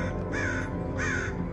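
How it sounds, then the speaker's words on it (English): A crow caws twice at an outdoor spot in Venice Beach, California. The two evenly spaced harsh calls stand above constant broadband street noise. "And the crow."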